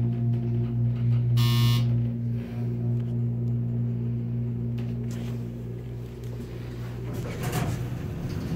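A Delaware elevator in a Holiday Inn Express on Maryland's eastern shore gives a short, piercing high buzzer tone, heard over the steady low hum of its motor and cab.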